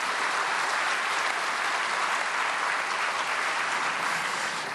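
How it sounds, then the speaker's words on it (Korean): A church congregation at a prayer meeting for peaceful reunification applauds to welcome the pastor, a steady, even roar of many hands heard from some distance, continuous and unbroken. "나오시면 크게 환영하는 박수로 맞이해 주시기 바랍니다"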